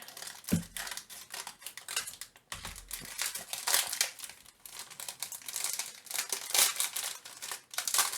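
Crinkling and rustling of plastic craft-supply packaging, with bursts of crackle and scrunching, close by, continuing throughout with no talking.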